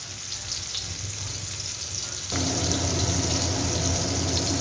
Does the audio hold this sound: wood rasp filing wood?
no